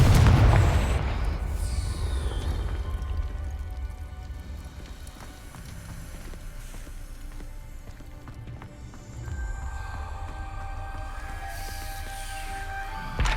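A Confringo fire spell bursts in the Hogwarts Legacy video game, a loud booming blast at the very start that fades into a lingering low rumble and ambient game sound.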